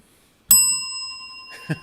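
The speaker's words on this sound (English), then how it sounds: "A little bell for you." A small bell struck once, ringing out clearly with a long sustained shimmer that slowly fades, followed by a soft knock near the end.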